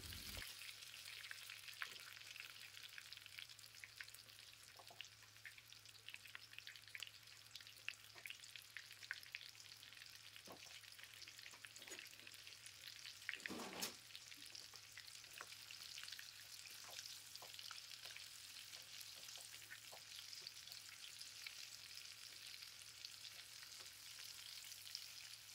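Tiger prawns fry in oil over a low flame, giving a soft, steady sizzle with faint crackles and an occasional light stir, quiet and continuous with no voices.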